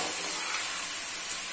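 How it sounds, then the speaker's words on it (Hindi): Masala spice paste for bhindi being fried and ground smooth in a pan, a brief dense hissing sizzle close by, no voices. "साथ में मसाला भून भी रहे हैं अच्छे से"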